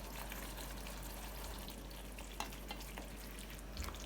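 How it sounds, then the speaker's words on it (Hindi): Fried potatoes stirred into masala in a pan over a low flame: a steady, faint sizzle runs throughout, with small scraping stirs and a couple of brief clinks, no voices. "मिक्स कर लेंगे ताकि आलूओं को अच्छे तरीके से मसाला लग जाए"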